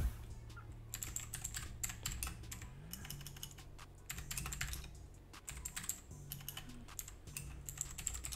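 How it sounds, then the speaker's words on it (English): Quick, light clatter of fingers typing on a computer keyboard, the key clicks coming in irregular bursts close to the microphone, with no voices. "if I type over here"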